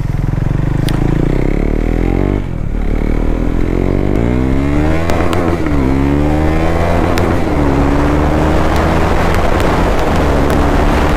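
A modified BS4 KTM Duke 390 fitted with an RCB hydraulic clutch revs hard while being ridden. The engine note climbs repeatedly in rising sweeps, loud and close, with no talking.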